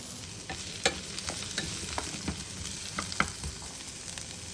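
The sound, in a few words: stir-frying zucchini, onion, asparagus in brown rice oil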